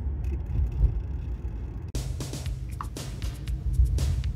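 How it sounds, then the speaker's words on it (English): A car drives along, its engine and road noise a steady low rumble from inside the cabin, with a thump partway through and louder tyre and wind noise afterwards; no one speaks. "Driving home."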